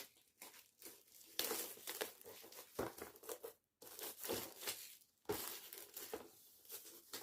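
Plastic and cardboard packaging of a 2022 Action advent calendar item being torn open and unwrapped: loud, close crinkling and tearing in irregular bursts for several seconds, with brief pauses between grabs.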